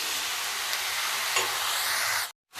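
Chicken for a chicken curry with potatoes sizzles steadily in a pan as it is stirred, a constant close frying hiss that cuts off abruptly near the end.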